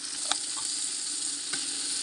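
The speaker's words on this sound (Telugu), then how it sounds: "పచ్చిమిరపకాయలు బాగా ఫ్రై అయిన తర్వాత ఆనియన్స్ అంటే ఉల్లిగడ్డలు బాగా ఫ్రై అయిన తర్వాత" Green chillies and onions sizzle and fry in a pan for a village-style jackfruit biryani, a steady, close crackling hiss broken by a couple of soft stirring scrapes.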